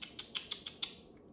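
Sharp clicks on a computer keyboard tap out six quick keystrokes at an uneven rhythm, close and crisp against a quiet background.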